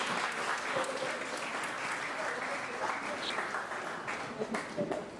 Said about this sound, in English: We want to give him another round of applause.